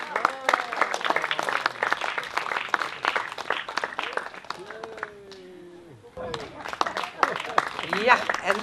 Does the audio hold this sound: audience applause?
yes